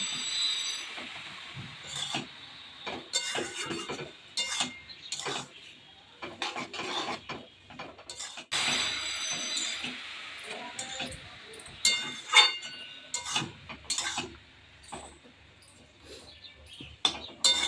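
Jujube (kul) pickle stirred in a pan on high flame without oil, a series of close scraping and clinking strokes of a utensil against the pan in irregular bursts, with faint background quiet between strokes.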